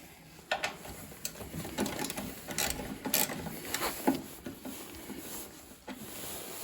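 A ratchet with a 3/8 socket backs out a bolt on a snowblower's black plastic belt cover, producing runs of soft rapid clicks with scattered knocks and pauses, faint and close by.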